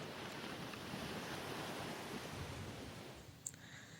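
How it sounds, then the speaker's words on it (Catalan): Sea waves wash in a soft, continuous rush with a breezy, windy texture, faint and distant throughout, and a brief small knock near the end. "Hola, això és el mar."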